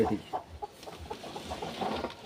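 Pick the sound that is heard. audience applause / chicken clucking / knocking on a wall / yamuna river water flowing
chicken clucking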